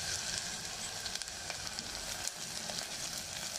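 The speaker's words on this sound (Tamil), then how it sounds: "எண்ணெய் நல்லா காஞ்சிருச்சு, இந்த டைமில் வெங்காயத்தை போட்டுக்கலாம்" Onions and dried red chillies hit hot oil for a Madurai mutton curry, a loud close steady sizzle with crackling spits and no voices.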